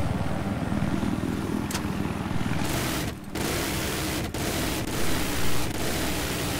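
Little Bird helicopter in Battlefield 4, a steady whirring rotor and engine drone under in-game noise, broken by a few brief dropouts and sharp clicks.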